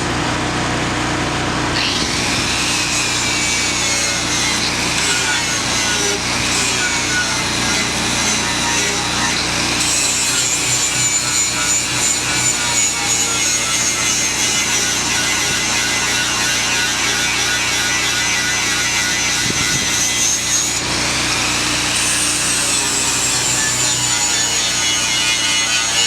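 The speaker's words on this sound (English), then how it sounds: "You basically want to grind off all the paint where you're going to weld the hooks." An angle grinder strips paint from a steel loader bucket to prepare it for welding fork hooks. The harsh, continuous, loud abrasive whine runs the whole time, shifting slightly in pitch as the disc moves over the metal.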